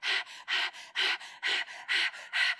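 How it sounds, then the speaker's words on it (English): An anxious dog panting rapidly and steadily, quick rhythmic breaths close to the microphone with no other sounds. "a lot of panting accompanying that wide grin"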